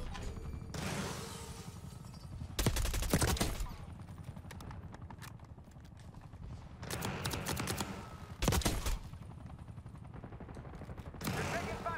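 Black Ops 6 multiplayer gunfire comes in several sharp automatic bursts, rattling loudly between quieter mechanical clicks and background game noise.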